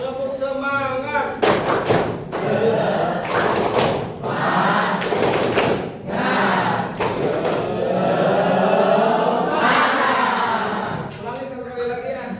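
A classroom group claps the 'tepuk semangat' pattern in several separated bursts of loud, close claps, with group chanting and voices running throughout between the clap sets.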